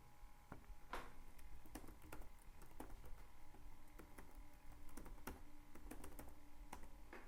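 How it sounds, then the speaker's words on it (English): Quiet typing on a computer keyboard while entering a web address into a browser, with scattered soft keystrokes in uneven bursts and no voices. "we need to type into our browser localhost / our website name"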